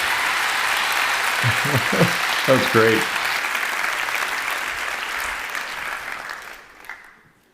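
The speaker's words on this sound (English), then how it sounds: "These all belong to you, along with a big round of applause from all your friends." Big round of applause from an audience at a TED talk, loud dense clapping filling the room, with a brief spoken comment over it early on, then fading out toward the end.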